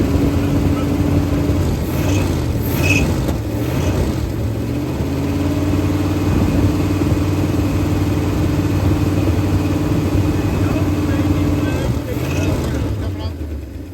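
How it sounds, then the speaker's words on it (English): A 1971 Ford F250 pickup engine, just revived after sitting nine years, idles steadily at close range with a smooth, even rumble, while people talk over it. "it's actually idling really nice. It's smooth."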